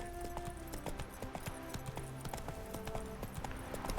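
Roach, a horse in The Witcher 3, trotting with a quick steady clip-clop of hooves close by, rhythmic hoofbeats over faint ambient game sound.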